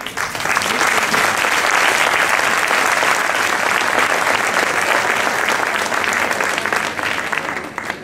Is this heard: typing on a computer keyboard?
no